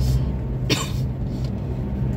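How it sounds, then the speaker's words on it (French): A single short cough bursts out close to the recorder, breaking over a low, steady background rumble. "Je crois que j'ai envie encore de tousser."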